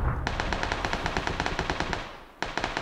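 Rapid automatic gunfire in the video game PUBG, a long even burst of sharp shots, a short pause, then another burst starting, loud against a constant game background.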